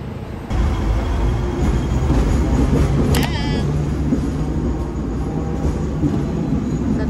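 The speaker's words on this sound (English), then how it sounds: "Sa tram kami." A Hong Kong tram runs along its street tracks, a steady low rumble with rattling underneath, and a brief high squeal near the middle, heard close from on board amid city background noise.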